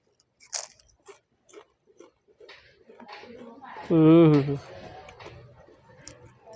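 Several sharp, crisp crunches from biting into a dry masala khakhra, spaced apart, with a brief burst of close speech in the middle.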